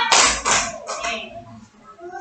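Schoolchildren in a classroom clapping their hands in a few short, sharp bursts, with children's voices chattering around them.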